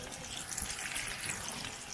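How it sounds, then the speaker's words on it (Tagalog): Steady crackling sizzle of food frying in hot oil, continuous and fairly close, with no voices. "It's frying time."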